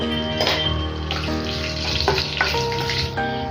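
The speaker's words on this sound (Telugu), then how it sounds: "ఇప్పుడు ఇందులోకి కొద్దిగా ఆవాలు అలాగే జీలకర్ర ఒక రెండు ఎండుమిర్చి కొద్దిగా కరివేపాకు యాడ్ చేసేసుకొని ఫ్రై చేసుకుందాము" Mustard seeds, cumin, dried chillies and curry leaves fry in hot oil for a ladyfinger curry, giving a loud close sizzle with crackling bursts and a few clinks, continuous throughout with no voices.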